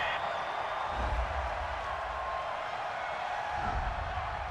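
Football stadium crowd during a Los Angeles Rams vs. Kansas City Chiefs NFL game, reacting to a penalty flag on third down: a steady, dense roar of many voices, fairly loud and sustained, with swells near the start and end.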